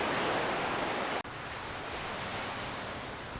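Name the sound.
ocean waves breaking on the shore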